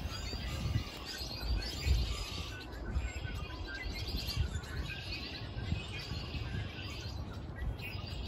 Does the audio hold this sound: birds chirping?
yes